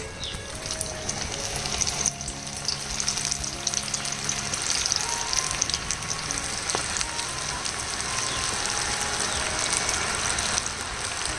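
Spinach pakoda fritters hissing in hot oil, a steady loud sizzle with bubbling crackle that runs throughout, close by, with no talk.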